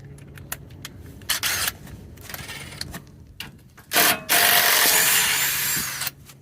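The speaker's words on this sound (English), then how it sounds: "now I'll just get my impact under there and bust it out" An impact wrench loosens a rear shock bolt on a 2019 Honda Odyssey, firing in loud, close bursts: a short rattle early on, then a longer sustained hammering run near the end, with clicks and shop noise between.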